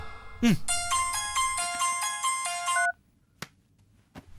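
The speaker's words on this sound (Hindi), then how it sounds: "फोन की घंटी बज रही है, सुनाई नहीं दे रहा?" A phone rings with a bright electronic melodic ringtone that repeats for a couple of seconds, then stops, followed by faint clicks.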